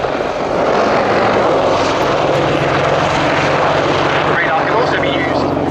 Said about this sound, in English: Gunship are now accelerating once again to perform a wing over at crowd left